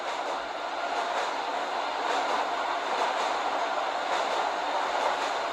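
A subway train in the Subway Simulator 3D video game rolls steadily through a tunnel, giving a continuous, even rumble and rail noise with no voices.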